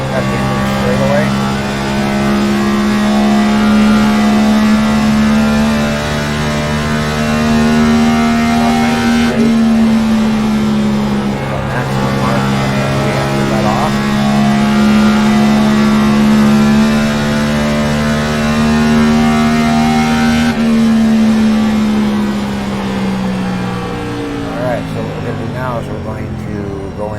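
A race car engine with a 406 engine screams at a sustained high pitch near 9,000 RPM down a straightaway, its steady harmonic whine dipping briefly at gear shifts, loud and close throughout.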